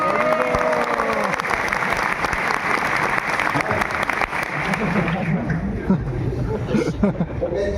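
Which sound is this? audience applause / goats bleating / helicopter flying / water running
audience applause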